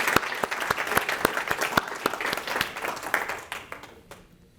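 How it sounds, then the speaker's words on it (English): Audience at a computer science recognition event applauding undergraduate teaching assistants and peer mentors, a lively burst of many hands with crisp individual claps, gradually thinning and fading away near the end. "can we have a big round of applause for all of them?"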